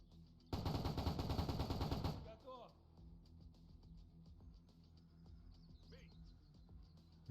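Machine gun burst in the Future War Tactics video game, a loud rapid rattle of shots lasting about one and a half seconds that then cuts off, followed by faint game ambience and chirps.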